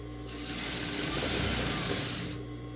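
A sewing machine runs a single continuous burst stitching a seam on a checked apron, a steady buzzing whir lasting about two seconds, close and fairly loud, with no talking.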